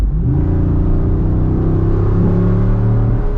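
A Jeep Wrangler Rubicon 392 V8 engine revs hard and loud, a deep throaty exhaust rumble rising and falling in pitch without pause, close to the microphone.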